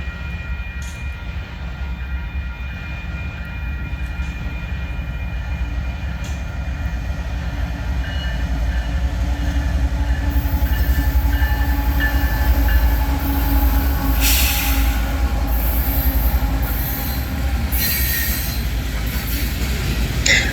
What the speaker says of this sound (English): a loaded eastbound coal train.